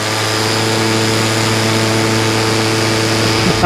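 An OpenPPG SP-140 electric paramotor runs at full throttle, giving a steady, loud motor and propeller whine with stable tones that hold unbroken for several seconds, with no talking.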